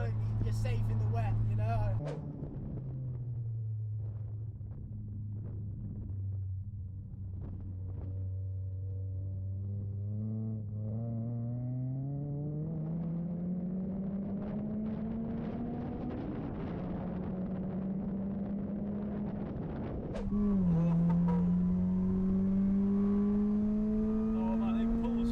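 Supercharged Honda Accord engine pulls hard under acceleration, a loud steady drone climbing in pitch with supercharger whine over about twenty seconds, dropping briefly at a gear change before rising again, with a voice talking over it.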